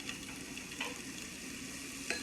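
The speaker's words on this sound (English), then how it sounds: "the best onions are slow cooked onions" Onions cook slowly in a pan with a quiet, even sizzle and occasional stirring clicks and scrapes, close and low in level.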